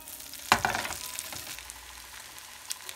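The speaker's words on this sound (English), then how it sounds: "And then I'll put them into my melted butter." Separated onion layers dropped into melted butter in a pan for a Beyond Burger start with a sharp hiss and scrape, then settle into a softer, continuous frying sizzle with a faint clink near the end.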